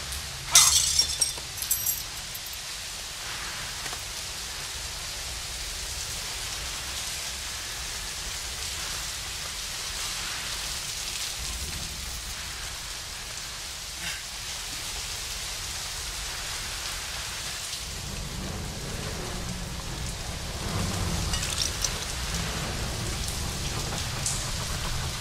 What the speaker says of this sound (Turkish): Yağmur mu başladı ya?